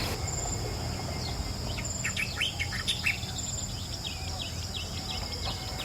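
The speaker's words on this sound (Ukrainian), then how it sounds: "Ось ще одна фауна, місцева пташка, яку я також не знаю, як вона називається, проте вона дуже гарно співає." A local songbird at Lake Toba, Sumatra, sings bright chirping phrases repeatedly against a dense outdoor bed of insect buzz and crickets, fairly close and clear over steady ambient noise.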